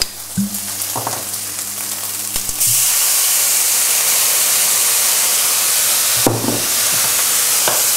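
Wine splashed into a hot pan of browned meatballs sets off a sudden loud, steady sizzle and hiss that holds to the end, after a few brief stirring scrapes.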